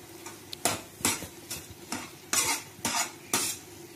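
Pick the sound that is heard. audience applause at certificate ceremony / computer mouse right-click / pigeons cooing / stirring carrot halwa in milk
stirring carrot halwa in milk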